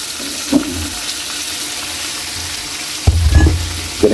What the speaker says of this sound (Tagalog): ilagay na natin yung pork